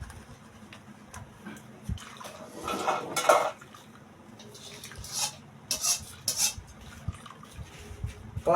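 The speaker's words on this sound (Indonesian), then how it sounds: "Santannya masih kurang, kita sekali lagi untuk penyaringan." Coconut milk for Sundanese dodol is strained in pots, giving quiet scraping, clinking and sloshing of pots and utensils in irregular bursts over a low background hum.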